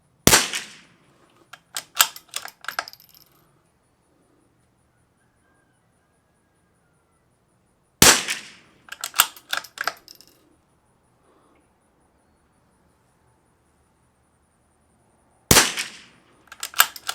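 Three loud, close rimfire rifle shots spaced several seconds apart, fired from a CZ455 with a Walther barrel using Eley Tenex at 50 yards, each crack followed by a flurry of bolt clicks and casing handling.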